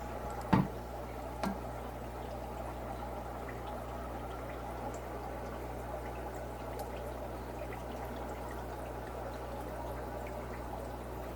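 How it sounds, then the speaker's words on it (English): Fish food poured into an aquarium tank while air stones bubble hard, a couple of short pouring taps near the start, then a steady, even bubbling hiss that continues alone to the end. "the food is poured into the tank"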